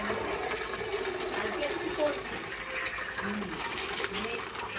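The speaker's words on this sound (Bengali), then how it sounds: "এবার আমি ফ্যানটাকে ঝরিয়ে নেব।" Starchy water being drained off partly boiled rice, cooked about 70 percent for jeera rice, makes a steady, continuous rushing and trickling pour throughout.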